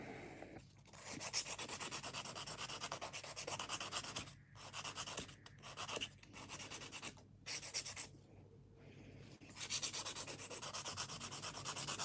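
A nail file works over acrylic nails, giving steady, close rasping strokes that run almost continuously with a few brief pauses, and no voices are heard.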